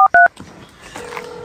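Two short telephone keypad dialing tones beep in quick succession, loud and close, followed by a quieter steady tone on the line.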